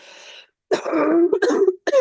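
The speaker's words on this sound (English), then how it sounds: "I'm coughing." A few harsh throat-clearing coughs in quick bursts, close and fairly loud, after a brief murmur at the start.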